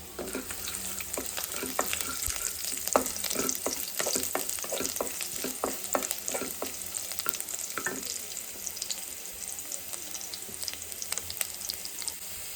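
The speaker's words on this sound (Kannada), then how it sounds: "ಈ ಬೆಳ್ಳುಳ್ಳಿ ಸ್ವಲ್ಪ ಗೋಲ್ಡನ್ ಕಲರ್ ಫ್ರೈ ಆಗಬೇಕು ಫ್ರೆಂಡ್ಸ್" Chopped garlic frying in hot oil toward golden for a vegetable Korean ramen bowl, a dense, steady crackling sizzle with quick stirring clicks, near and continuous for the whole stretch.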